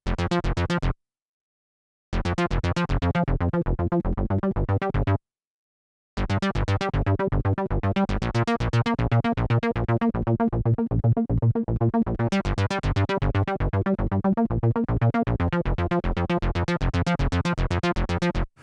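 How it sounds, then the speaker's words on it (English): A Korg KingKORG synthesizer arpeggio cycles rapidly through repeating notes in a steady rhythm, stopping briefly twice before continuing, with no voices. "No synth would be complete without an arpeggiator"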